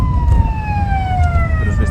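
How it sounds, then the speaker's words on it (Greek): Fire engine siren wailing close and loud, a steady descending tone over heavy street rumble, with a voice briefly speaking. "Πυροσβεστική."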